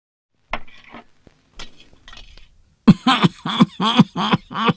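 A person coughs in a rapid burst of harsh, loud coughs after a few quieter throat sounds, close and clear.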